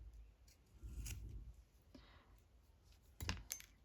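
Scissors snip through fabric being shaped for a couched textile piece, a few close, quiet crisp cuts spaced out with soft handling rustle between them.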